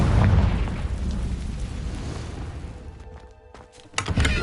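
A Confringo blasting spell goes off in Hogwarts Legacy, a loud, booming burst that rolls out into a fading rumble over a few seconds before a smaller thump at the end.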